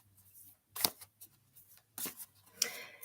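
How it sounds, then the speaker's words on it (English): Oracle cards are shuffled and pulled in a quiet room, producing a few short, soft papery flicks and riffles spaced irregularly with near-silence between them. "Let me go ahead and pull a few cards"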